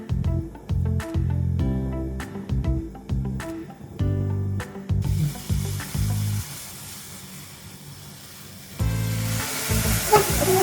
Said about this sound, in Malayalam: പാല് തിളച്ച് വരുന്നുണ്ട്.